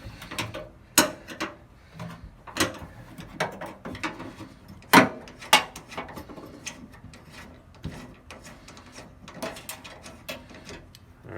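Metallic ratcheting and clicking as a 10mm bolt is worked loose from the tailgate of a 2019 Toyota Tundra, with close, irregular bursts of ticks and clanks and no talking.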